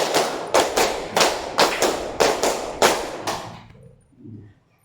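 An Indonesian classroom claps a counted rhythm together: about nine sharp, loud, unified claps in short groups with brief pauses, then quiet with a faint murmur at the end.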